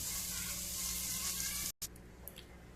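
Garlic, ginger and green chillies fry in oil in a pan for mutton keema, giving a steady, close hiss that cuts off abruptly near the end, followed by a few faint clicks.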